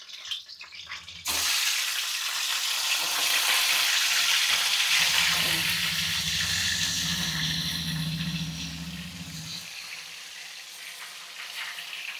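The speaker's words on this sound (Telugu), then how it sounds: "ముందు పచ్చిమిర్చి వేసేసుకుందాం. అవి కొంచెం వేగుతూ ఉంటాయి." Green chillies hit hot oil in a pan with a sudden loud sizzle, settling into a steady bubbling fry that gradually quiets.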